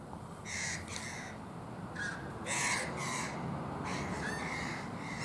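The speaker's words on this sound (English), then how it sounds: "Magpie going nuts, attacking" A magpie gives harsh, rapid chattering calls in several agitated bursts while attacking chickens, fairly distant over faint outdoor background noise.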